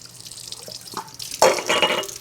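Water runs from a tap into a sink, starting faintly with a few drips and then swelling into a steady, close splashing stream for about a second, with no talk over it.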